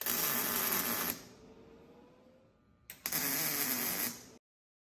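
Two quick tack welds join parts of a hydraulic boat step, each a loud, steady crackling buzz about a second long, separated by a quieter fading gap.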